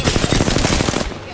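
Rapid automatic gunfire in the video game Apex Legends: a fast burst of about a dozen sharp, loud shots in quick succession, ending abruptly after a second.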